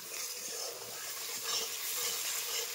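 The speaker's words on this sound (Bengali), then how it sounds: "আরও 2 মিনিট আমি এইভাবে মশলাটাকে কষিয়ে নিচ্ছি।" Spice paste sautéing in hot oil in a pan for a meat curry, giving a steady, close, continuous sizzle and hiss with soft stirring scrapes and no voices.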